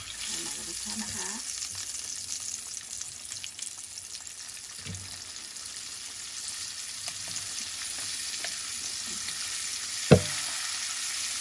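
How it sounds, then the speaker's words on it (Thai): Crab frying in hot oil for a Thai garlic crab dish, a steady broadband sizzle running throughout with faint stirring scrapes and a sharp utensil knock near the end. "แล้วก็เราไปทอดต่อค่ะเราไปทอดนะคะ"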